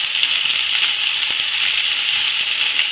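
Shredded cabbage for a paratha filling stir-fries in a hot pan, giving a steady, even sizzling hiss that carries on without pause and without any talk.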